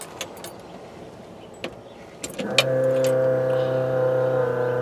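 Quiet rustling and a few clicks, then an engine cranks and catches around the midpoint, settling into a steady, loud idle with a strong low hum.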